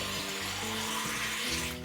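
Tap water runs steadily into a water bottle at a home sink, a continuous close rushing stream that holds across the whole moment with no talk.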